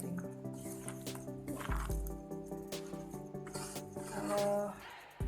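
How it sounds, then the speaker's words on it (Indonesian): Coconut and palm sugar mixture simmering in a pot, soft bubbling and wet gurgles with occasional stirring squishes, fairly quiet and close, no speech over it. "udah mulai mendidih. Sekali-sekali kita aduk biar enggak lengket bawahnya."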